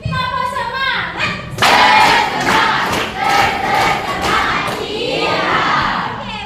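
Schoolchildren in a classroom repeat the 'tepuk semangat' spirit clap chant, a loud burst of unison chanting punctuated by rhythmic hand claps, with a teacher's voice speaking at the start and end.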